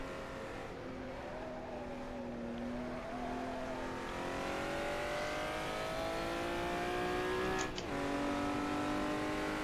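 Simulated Honda NSX-R engine lapping Suzuka in rFactor, a steady loud drone that climbs in pitch through the gears with brief lifts and a quick shift near the end, continuous and close with no talk.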